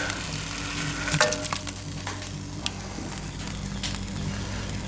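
Browned porcupine meat is dumped into a spicy broth in a pot, with a steady sizzle and a few clattering scrapes early on, close and moderately loud.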